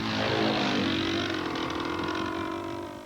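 A model airplane's engine drones steadily with a buzzing propeller tone, passing fairly close and fading slightly toward the end, with no voices.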